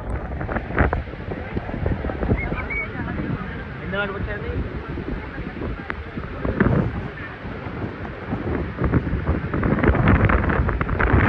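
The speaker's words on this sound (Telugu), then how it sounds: "ఎంత గాలి కొడుతుంది" Strong storm wind roars and buffets the microphone in loud gusts beside the sea in Goa, with rough waves, while people talk over it.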